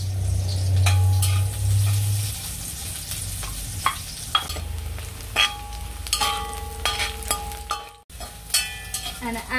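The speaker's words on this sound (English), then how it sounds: "So I gotta keep back some to fry the sweet potato, right?" Sweet potato fries in a pan with a constant crackling sizzle, a low hum in the early seconds, and scattered scraping and stirring clicks throughout.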